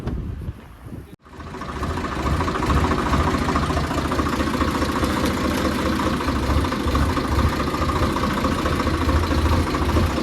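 A tractor engine runs steadily and loud close by on a farm, a brief dip near the start giving way to a continuous droning idle with low rumbling pulses throughout.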